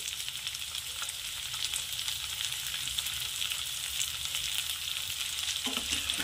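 Green peas frying in a pan for rava upma give a steady, close sizzle throughout, with a brief stir near the end.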